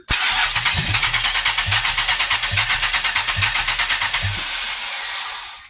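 A 2007 Grand Prix GXP engine turns over under the starter with a steady rhythmic chugging, loud and close, each stroke sounding as if it is about to fire.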